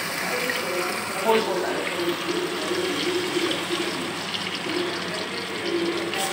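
Water poured into a yogurt and gram-flour batter in a home kitchen, a steady running, splashing wash that continues throughout with a brief louder gush early on, while a voice talks over it.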